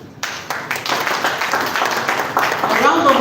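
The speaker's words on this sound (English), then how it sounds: "A round of applause for him." Audience clapping at a strategy launch event, starting with a few scattered claps and building into fuller applause, with a voice speaking faintly over it.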